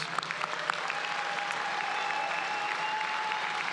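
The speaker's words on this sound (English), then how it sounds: "Please join me in applauding our 2026 Working Professional and Executive MBA Leadership and Service Award winners" Sustained audience applause fills a commencement ceremony for MBA award winners, steady dense clapping at moderate level throughout, with a faint tonal hum beneath.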